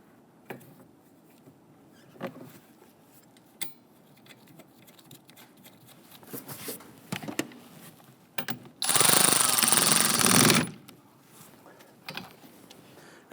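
A power tool snugs down the fuel injector fasteners on a 2011-2021 Jeep Grand Cherokee 3.6L V6, heard as one loud burst of about two seconds among quiet workshop clicks and handling noises.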